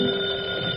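A telephone rings in an old-time radio comedy, a steady metallic bell trill sounding loud and continuous across the short stretch.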